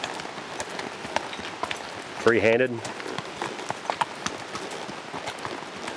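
A horse walks a mountain trail, its hooves clip-clopping in a steady, close rhythm while someone talks briefly over the steps.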